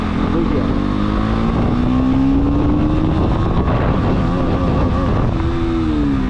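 A KTM Duke 125 motorcycle engine drones steadily while riding in second gear, its pitch climbing gradually as it pulls, then dipping and rising again near the end, loud and close over wind noise.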